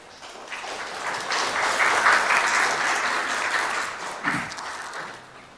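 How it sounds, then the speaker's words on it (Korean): Audience applause at a Seoul conference presentation session welcoming the next speaker, swelling up to a full, dense round of clapping in a hall, then gradually thinning and tapering off. "큰 박수로 맞이해 주시기 바랍니다"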